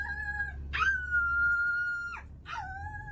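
On a bus, a woman imitates a dog with three drawn-out, whining howl-like yelps over the low rumble of the vehicle, loud and close.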